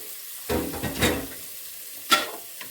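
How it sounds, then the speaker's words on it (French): Sliced onions, about three, dropped into a hot frying pan and starting to sizzle, with a few short bursts of stirring and clatter against the pan, fairly quiet and close with no talking. "dans ma deuxième poêle, je vais mettre mes oignons que j'ai coupés en lamelles"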